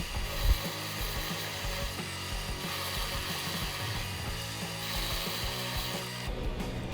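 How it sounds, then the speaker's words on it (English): A drill press with a 1 5/8-inch Forstner bit runs steadily, grinding into wooden boards with a continuous mechanical hum and occasional rattling. "With an 1 5/8" Forstner bit chucked up in my drill press, I could drill all the holes"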